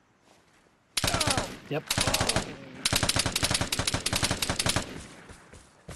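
Loud, rapid automatic gunfire in a shooting video game, sustained rattling bursts with brief gaps, close and dominant, with a short exclamation from a player over it.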